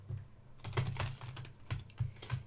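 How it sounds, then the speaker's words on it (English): Tarot cards are shuffled from the side, riffled and tapped in short, crisp bursts, several quick clattering flurries close by with brief pauses between. "And then I actually prefer to shuffle this way from the side."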